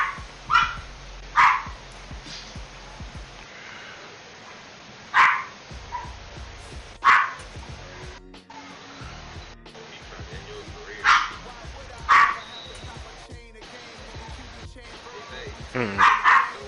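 A dog barks in short, sharp bursts, roughly seven barks spaced irregularly and sometimes in quick pairs, fairly close and loud over a low background murmur with some talk.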